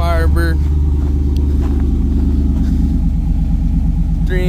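A 1995 Pontiac Firebird Formula with an LT1 V8, long-tube headers, an off-road Y-pipe and a 3-inch Magnaflow exhaust rumbles steadily at a deep idle, with a voice heard briefly at the start and end.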